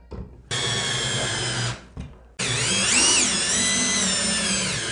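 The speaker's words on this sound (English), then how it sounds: "I'm going to use my drill to set these legs into their depth" A power drill whirs in two bursts while driving TV mount legs, a short run and then a longer, steadier one that rises briefly in pitch as it drives in.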